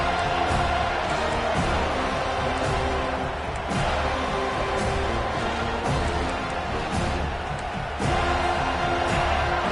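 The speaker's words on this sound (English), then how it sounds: "This crowd bringing an ear-splitting welcome to their visitors" A packed stadium crowd at a football game roars loudly and continuously as the visiting team plays, creating a dense wall of cheering that swells at moments throughout.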